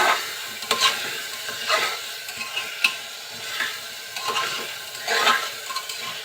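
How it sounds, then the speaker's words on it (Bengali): Taro (kochur mukhi) pieces being stirred with spices in a frying pan, with repeated scraping strokes about once a second over a soft, constant sizzle, close and clear with no talking. "মশলার সাথে খুব ভালোভাবে নাড়াচাড়া করে নেব।"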